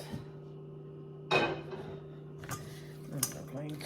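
Sausage stuffing for banana peppers being mixed in a bowl with utensils, with soft scraping and a few sharp clinks of metal against the bowl over a steady low kitchen hum.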